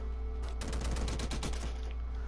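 Rapid bursts of shooting in the video game Downwell, a dense run of quick repeated shots over a steady low hum, continuous and fairly loud, with no talking.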